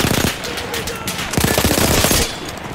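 Machine gun fire in Battlefield 1 on PS5, loud rapid bursts of close automatic shooting with a dense rattling stream near the middle and end, and a voice speaking briefly under the noise.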